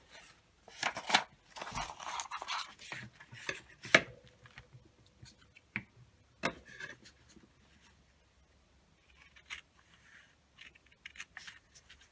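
Paper being cut off while decorating an envelope: sparse snips and scrapes of scissors through paper, close and crisp, in irregular bursts separated by quiet pauses.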